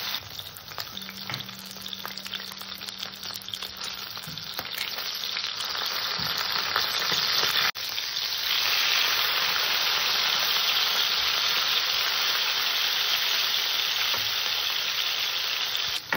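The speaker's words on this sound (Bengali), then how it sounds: "আমার তেল গরম হয়ে গেছে, মাছটাকে আমি সুন্দর করে ভেজে নেব।" Katla fish frying in hot oil, an intense, close sizzle that builds and then holds as a steady roaring crackle, with a few light knocks early on.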